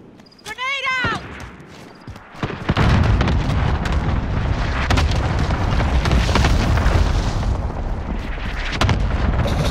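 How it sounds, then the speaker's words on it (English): Cluster strike in Call of Duty: Modern Warfare, a sustained rumbling barrage of explosions rolling on for several seconds after a brief shrill effect, with players talking over it. "Allied cluster strike arriving."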